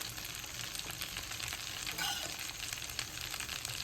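Vegetables and fried rice sizzle steadily in a hot pan as they are stirred together, a dense, even crackle with soft scraping of the spatula throughout.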